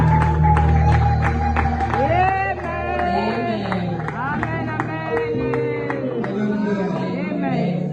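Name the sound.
congregation applauding and cheering in church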